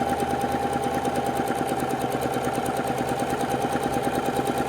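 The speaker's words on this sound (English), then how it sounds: "We're going to sew a 1/4 inch on either side to make our half square triangles" A sewing machine runs steadily, stitching a quarter-inch seam through quilt fabric for half-square triangles, with a fast, even mechanical whir and rapid needle rhythm, close and loud, with no talking.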